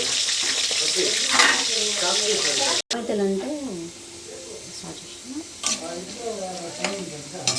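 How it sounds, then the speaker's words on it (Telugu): Sliced onions fry with cloves, cardamom, cinnamon and bay leaves in a pan, sizzling loudly up close while being stirred, with scraping and clattering throughout. "చక్కగా గోల్డ్ కలర్లో వేయించుకోండి"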